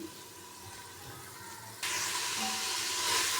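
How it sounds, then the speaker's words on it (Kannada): Chopped carrots and beans hit a pan with green chilli-garlic-ginger paste for ghee rice, a quiet background simmer suddenly jumping to a loud, bright, steady sizzle that keeps hissing to the end. "ಕಟ್ ಮಾಡಿಟ್ಟಿರುವಂಥ ಕ್ಯಾರೆಟ್ ಬೀನ್ಸ್ ಕೂಡ ನಾನು ಸೇರಿಸ್ತಾ ಇದ್ದೀನಿ"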